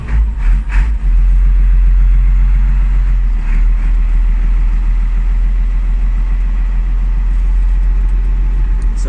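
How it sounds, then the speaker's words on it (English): A Ford 7810 Silver Jubilee six-cylinder tractor runs along a lane, its diesel engine a loud, steady low rumble close by, with a few knocks at the start before settling into an even drone. "7, 8, 10 Ford, about a 6-cylinder. See if we run down the lane here."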